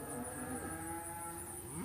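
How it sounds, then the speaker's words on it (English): Cows low in a field near a red dairy barn, one drawn-out moo sliding in pitch over a steady low rumble, moderately distant and with no voices. "listening to cows all around"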